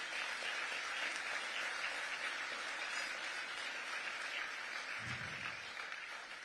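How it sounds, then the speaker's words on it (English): Steady applause from the audience at the Atlantic Council Global Citizen Awards in New York, a dense, even wash of clapping that holds at a constant level for several seconds. "And please applaud them."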